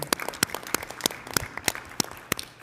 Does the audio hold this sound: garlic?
no